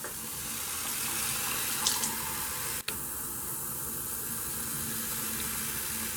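Tap water runs steadily into a measuring cup for about a cup's worth, a continuous close hiss with a brief clatter near the middle, no one speaking, in a home kitchen while baking.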